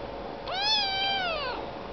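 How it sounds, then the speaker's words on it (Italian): A single drawn-out meow from a cat on a sofa, clear and close, rising then slowly falling over about a second in an otherwise quiet room. "Ma cosa miagoli?"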